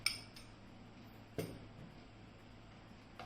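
A spoon mixes chili powder into mango pickle in a metal bowl, giving a couple of sharp clinks against the metal over a quiet background.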